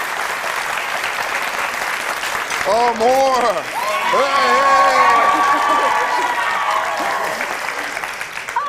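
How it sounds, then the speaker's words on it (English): Studio audience applause for a top chef on a cooking competition show, a sustained loud wash of clapping with voices calling out and talking over it throughout. "like a little applause"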